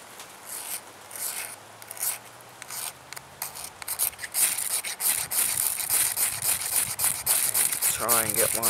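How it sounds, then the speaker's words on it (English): Harsh rasping and scraping as material is ground off during fire making in the rain, irregular strokes close to the mic, growing louder and denser, with rain-like hiss throughout. "So we're just going to grind this off."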